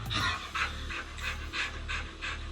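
A dog pants rapidly and steadily, close by, in a run of breathy pulses with a faint whimpering edge.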